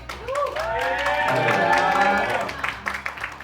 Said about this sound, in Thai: ขอเสียงปรบมือดังๆต้อนรับอีกครั้งหนึงัะ